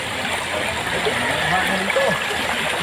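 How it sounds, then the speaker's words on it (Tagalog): Clear, cold water flows over stones at the foot of Mayon Volcano, making a steady nearby babble and trickle with faint murmurs in the background. "Kaya yung tubig na napakalinis dahil talagang filtered siya sa sa mga stone."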